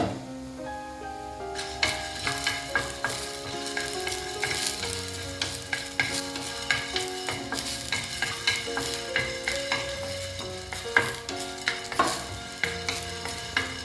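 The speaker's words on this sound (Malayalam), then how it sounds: "ഇതിൽ കുരുമുളകും വറ്റൽമുളകും കൂടെ ആദ്യം ഇട്ടൊന്ന് ചൂടാക്കാം." Black pepper and dried red chillies dry-roast in a pan, with the dry, rattling scrape of a spatula stirring in quick repeated strokes close by and a faint sizzle, and no talk.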